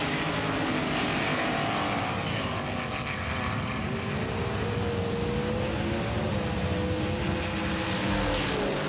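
Race cars in the final race of a Road Warriors battle roar continuously at close range, engine pitch sweeping up and down as they battle side by side, loud and unbroken without talk.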